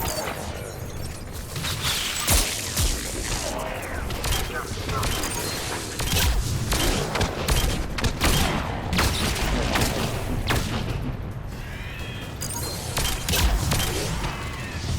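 A deployed turret fires in the Mass Effect 3 video game during a hardcore-difficulty fight, with dense bursts of rapid gunfire, booms and impacts continuing throughout while a voice talks over the action.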